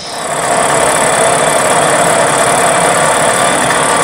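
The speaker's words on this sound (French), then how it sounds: "C'est parti pour 10 minutes au ralenti." A small engine idling on a test bench, a loud, steady buzzing drone that rises in the first half second and then holds evenly throughout, with no voices.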